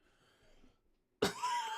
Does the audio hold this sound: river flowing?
no